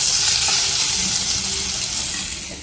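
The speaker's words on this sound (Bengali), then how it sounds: "এদিকে হচ্ছে আলু ভাজা" Potatoes frying in a pan, a loud, dense, close sizzle that stays constant throughout and fades slightly at the end.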